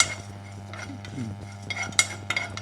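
Dry powder ingredients being roasted in a pan, with a spoon scraping and stirring against the metal, soft clinks and taps over a low steady hum, close and fairly quiet.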